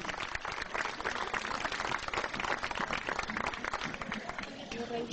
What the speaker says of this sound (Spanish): El aplauso para ellos y que lo resulte todo muy bien.